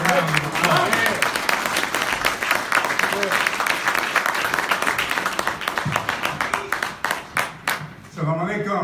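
An audience applauds Teddy Muhammad at a Saviours' Day student ministry class in Muhammad Mosque No. 7, a loud, sustained round of clapping that thins into scattered claps near the end.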